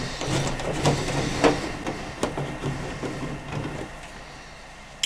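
Screws being removed from the metal casing of a microwave oven, a series of sharp clicks and metallic scrapes with faint ticking of the screwdriver, close and fairly quiet, fading toward the end.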